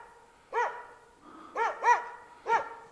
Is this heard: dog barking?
yes